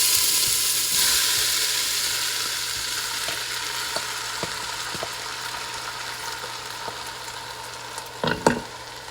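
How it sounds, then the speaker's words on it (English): Rice for homemade chicken fried rice sizzles in hot oil, a steady frying crackle with occasional stirring clicks and a couple of sharper scrapes near the end, no voices. "So you hear that sizzle?"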